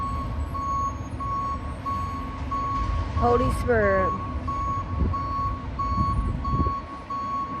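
A truck's reversing alarm beeps in a steady, evenly spaced rhythm, loud and continuous throughout, with a person talking over it and some engine rumble beneath.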